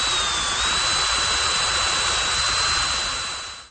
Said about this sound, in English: Now I want to drill some holes in each corner for these leveling screws.